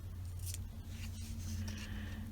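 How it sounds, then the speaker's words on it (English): Scissors snip along the edge of a paper tag while paper pieces are handled in a scrapbooking setting, giving faint, brief crisp cuts over a steady low hum. "I'm going to cut along that edge to continue the tag."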